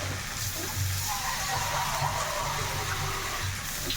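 Water pours into an egg curry (egg pulusu), a steady hissing splash of liquid running into the pot for several seconds, close and continuous with a low hum beneath.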